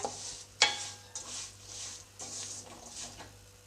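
A spoon stirs melting jaggery in a pan over a medium gas flame, scraping softly in slow repeated strokes with one sharp clink of metal, faint and close with no voice.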